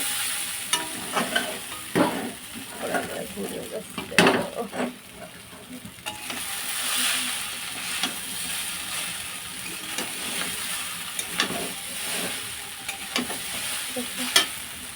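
Chicken chow mein stir-fried in a pan, with steady sizzling and repeated spatula scrapes and knocks as the noodles are tossed and mixed, close up and without speech.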